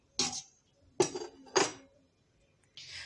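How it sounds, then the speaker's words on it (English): White sauce pasta with vegetables being mixed in a pan: three separate scraping clinks of a utensil against the cookware, close and fairly loud, spaced about half a second apart, with a brief hiss at the end. "and mix them well."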